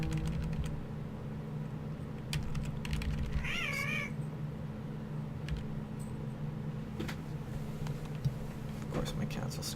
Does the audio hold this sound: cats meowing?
yes